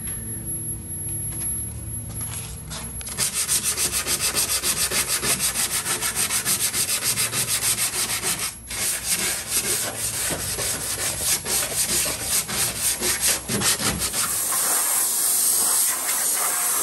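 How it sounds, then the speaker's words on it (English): Sandpaper rubbing over the grille and bumper of a 1952 Chevy, a close, steady scratchy hiss of repeated strokes that starts after a quieter opening and runs almost continuously before stopping near the end. "looks like we're done sanding. We just went over with 220."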